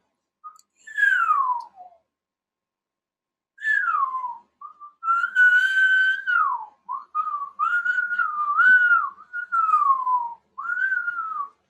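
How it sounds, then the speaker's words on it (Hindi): A person whistles a series of gliding tones while blowing air out and drawing it in, clear and close, with short pauses between phrases. "बाहर की तरफ हवा फेंको, सीटी बजाओ, अंदर की तरफ हवा लो और सीटी बजाओ।"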